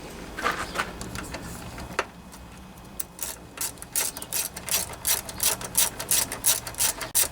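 Ratchet clicking as a bolt with a small washer is tightened on a Kohler Command 20 engine during carburetor repair, a close, rapid run of sharp clicks in short bursts with no talking.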